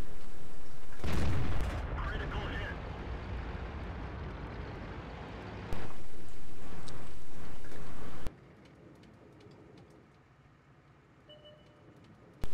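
In an online tank battle game, a tank cannon booms loudly near the start, followed by a stretch of engine rumble and battle noise. Another loud section follows, then things drop to quieter background ambience.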